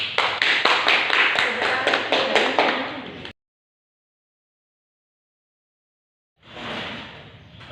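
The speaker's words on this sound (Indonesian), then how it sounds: "Beri tepuk tangan untuk kelompok 1." A classroom group applauds together for about three seconds with fast, dense clapping, then goes completely silent before a second softer burst of claps resumes.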